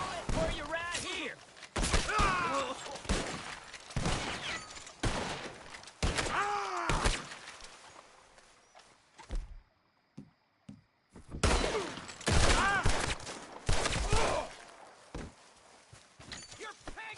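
Red Dead Redemption 2 gunfight with bursts of rifle and pistol shots, thuds and shattering impacts in uneven clusters, separated by a brief near-silent gap, with in-game voices shouting between volleys.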